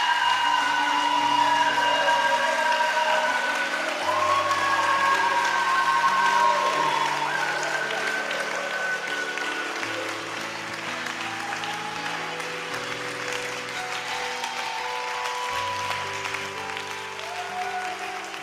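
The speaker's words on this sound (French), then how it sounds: "Est-ce qu'on peut lui rendre gloire par des acclamations?" A church congregation at a Sunday service applauds and cheers continuously, a dense wash of clapping mixed with sustained voices and music-like tones, loud and steady before easing slightly toward the end.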